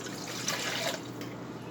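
Warm tap water runs steadily into a measuring cup, a continuous close splashing wash with faint dripping textures and no voices.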